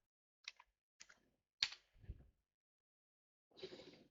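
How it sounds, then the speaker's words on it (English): An MFA code being entered on a keyboard, a few sparse, sharp clicks spaced out in a quiet room, followed by a soft rustle and a final brief burst of key noise. "and I'm going to be typing this in."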